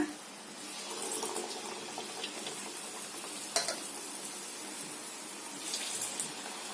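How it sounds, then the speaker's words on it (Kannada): Ridge gourd slices dipped in batter sizzle in hot oil for bajji, a steady, soft frying hiss that runs throughout, with a brief sharper crackle midway and no talking. "ಈಗ ಒಂದೊಂದೇ ಸ್ಲೈಸ್ಗಳನ್ನ ಅದ್ದಿ ಎಣ್ಣೆಲಿ ಬಿಡೋಣ"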